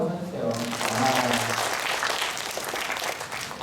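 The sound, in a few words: congregation applause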